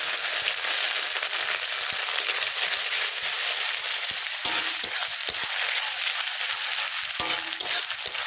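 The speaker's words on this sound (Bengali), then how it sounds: "নারকেলটা ভাজা হোক।" Grated coconut fries with vegetables in a pan, a dense, steady sizzle and crackle close up, broken by a few scraping stirs and knocks, with no talking.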